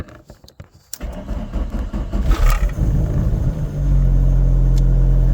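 A Volkswagen Rabbit pickup truck engine cranks over a few times, catches and settles into a loud, steady rumbling idle.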